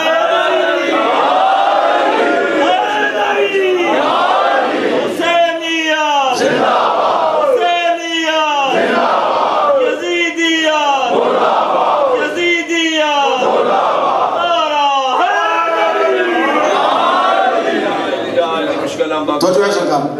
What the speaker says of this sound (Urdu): نعرہ تکبیر، نعرہ رسالت، نعرہ رسالت، پانچ نعرے